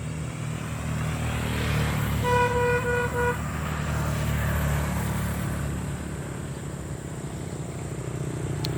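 Steady traffic rumbling beside a highway, a continuous low roar of passing vehicles with a short horn toot partway through, moderately near.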